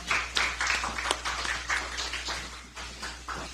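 A small crowd claps at a political party event after a scarf is placed on a newly recruited member, light scattered applause that stays fairly faint and even throughout the few seconds.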